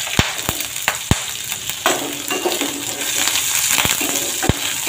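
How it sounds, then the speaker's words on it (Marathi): Green chillies dropped into hot oil with bloomed cumin seeds for sabudana khichdi, giving a steady close sizzle broken by several sharp crackling pops and spits across the pan. "जिरं छान फुललं की आपण याच्यात मिरच्या घालून घ्यायच्या"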